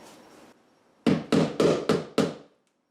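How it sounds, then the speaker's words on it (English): Five sharp, evenly spaced hammer blows drive 1.25-inch roofing nails through a chicken coop roof into the rafters, loud and close, following a brief faint rustle. "hammer on through, and now we'll just work our way along, securing that in"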